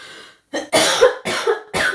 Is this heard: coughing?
yes